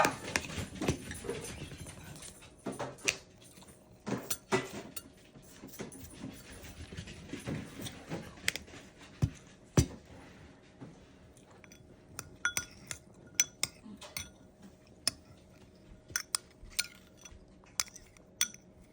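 Utensil clinking against a glass or ceramic dish while two ingredients are mixed, a quiet, irregular series of light taps and clicks that grow quicker and more frequent toward the end, close up.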